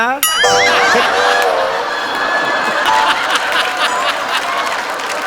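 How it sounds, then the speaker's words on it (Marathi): A studio audience at a Marathi comedy show breaks into applause mixed with chuckles. Bright bursts run beneath a rising, ringing musical sting at the start, then a steady clatter with scattered laughter. "अरे अरे टाळ्या काय वाजवताय?"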